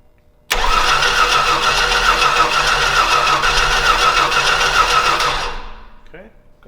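Small tug's piston engine, plugs just cleaned, cranks and catches with an abrupt start, then runs loud and steady for about five seconds before winding down and cutting out.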